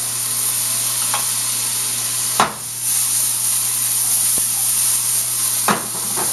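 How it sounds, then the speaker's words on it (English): Peas sautéing in butter in a pan for an omelet give a steady, close sizzle throughout, broken by a few sharp stirring clicks and scrapes. "we're going to use butter to saute this"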